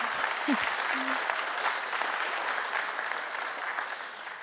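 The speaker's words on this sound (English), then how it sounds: "Yeah, you can clap for that" Church congregation applause at NorthPoint Church, a broad, even wash of many hands clapping from across the room, holding steady for several seconds at a fairly soft level.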